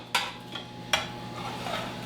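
A giant spatula scrapes and stirs in a pan, giving two sharp clanking strokes over a soft, steady background with lighter scraping between them.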